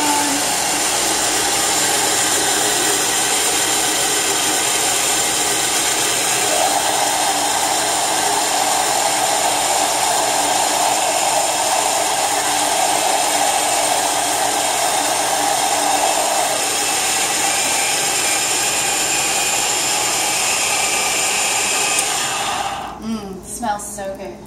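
An electric coffee grinder set to a 5.5 grind grinds coffee beans in a loud, steady whirring drone lasting over twenty seconds, then cuts off abruptly.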